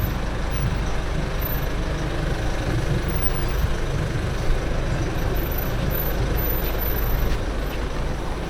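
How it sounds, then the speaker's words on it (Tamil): A truck or bus rumbles steadily past at close range on a narrow road, a loud, continuous low engine drone with road noise that swells slightly midway and never lets up. "பாதையில் அவ்வளோ ஒட்டி போகுது வண்டி."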